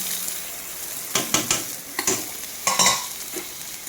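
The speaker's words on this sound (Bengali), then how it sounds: "এবার আমি ওলের ডাঁটাটাকে কষাবো" Boiled elephant foot yam stalks sizzling in a wok as a spatula scrapes and stirs them, with several clustered metallic scrapes over a steady close fry.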